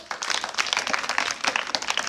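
A Bihar government school classroom claps during a quiz competition, with a brief burst of many pairs of hands clapping fast and unevenly, close and loud, with no talk over it.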